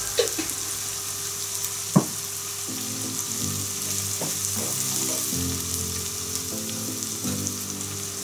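Sliced onion and turmeric powder fry in a pan for a camel meat roast with a steady close hiss, broken by a few soft stirring scrapes and one sharp knock, and no speech.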